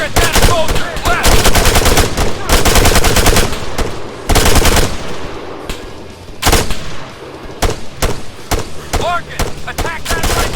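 Loud, rapid bursts of gunfire from the military shooter game Arma III crackle in dense volleys and automatic strings, with brief pauses between clusters and no talking.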